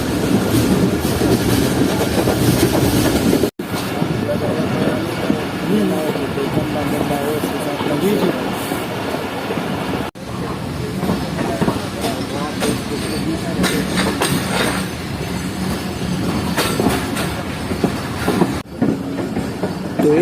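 The Khyber Mail passenger train, hauled by locomotive AG30 6025, runs through Kotri Junction without stopping, giving a loud, continuous rumble with rhythmic wheel clatter on the rails throughout.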